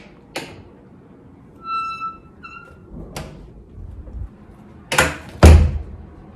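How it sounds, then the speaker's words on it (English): A squeaky mudroom door in a house creaks open and shuts, with a couple of short high squeals and then thuds of the door closing near the end, with no voices. "This is our mudroom door."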